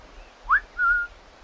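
Two sharp whistles, a short rising chirp and then a longer level tone, sound in a stealth moment of the video game Assassin's Creed 4: Black Flag, clear over a quiet background with no talk.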